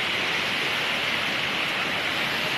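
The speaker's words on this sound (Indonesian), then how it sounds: "air terjun masih perawan" Steady, dense roar of a waterfall in the wild Aceh forest of North Aceh, a constant full-band rush of falling water without pause, close and fairly loud, with no voices.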